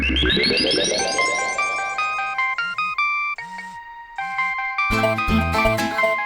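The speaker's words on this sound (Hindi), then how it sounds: "सुबह से 25 बार फोन आ गया खनक का, और ये मैं 26वीं बार कट कर रहा हूं।" A bright electronic phone ringtone plays loud and close, a rapid rising cascade of melodic tones followed by repeating chiming phrases that change pattern as the call is rejected.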